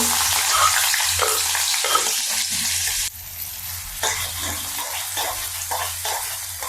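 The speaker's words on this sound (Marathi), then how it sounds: "आता आपलं तेल गरम झालं आणि मी याच्यामध्ये हा कांदा टाकून घेते." Onion tipped into hot oil for egg bhurji sizzles and fries steadily, a loud continuous crackle with stirring scrapes and occasional bursts, no talking over it.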